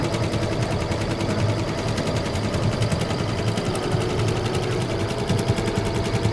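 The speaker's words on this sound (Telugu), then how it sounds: "మిషన్ రెండో వైపు వర్క్ చేస్తుంది" An embroidery machine stitches a mirror-work design on a blouse, keeping up a fast, steady mechanical chatter of needle strokes at close range. The rapid rhythm stays even and unbroken, with no voices.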